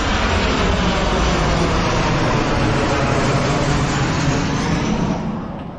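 Delta airliners pass low overhead, about 1,000 feet up, making a loud, broad jet roar that holds steady throughout and then fades slightly at the end.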